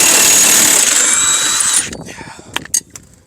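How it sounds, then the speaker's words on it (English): A power tool runs loudly and continuously during a front wheel bearing replacement on a PT Cruiser, then stops, leaving a few sharp metallic clicks and knocks. "power tools."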